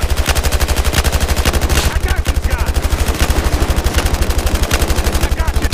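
Rapid, sustained light machine gun fire from a Battlefield Hardline match, a loud continuous rattle of evenly spaced shots running almost without pause throughout.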